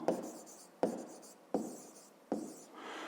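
Chalk or marker writing on a classroom board during a fifth-grade maths lesson: four distinct scratchy strokes spaced under a second apart, close and fairly quiet, with no talking.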